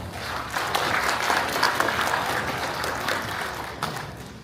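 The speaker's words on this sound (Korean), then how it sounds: "큰 박수로 환영해 주시기 바랍니다." A hall crowd at a county governor's New Year visit to Jeongsan township gives sustained applause, a dense, even roar of clapping that rises slightly and holds for several seconds.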